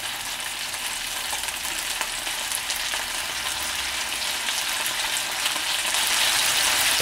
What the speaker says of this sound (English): Fry the chicken wings until they are light brown on both sides.